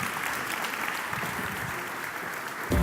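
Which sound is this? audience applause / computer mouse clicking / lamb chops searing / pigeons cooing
audience applause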